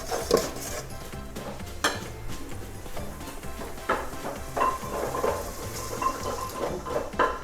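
A grandmother stirs red curry paste in a cooking pot for an old-style coconut noodle sauce. A utensil scrapes and clinks against the pot in irregular strokes over a faint sizzle, fairly close, with no talking.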